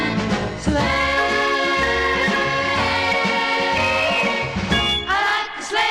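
A song plays from a vinyl record, with a full, continuous orchestral arrangement and vocals at a steady loudness throughout.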